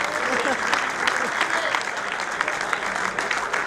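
A crowd at a sports tournament finals day awards ceremony gives a sustained round of applause for the event medics, with a voice talking over the steady clapping throughout.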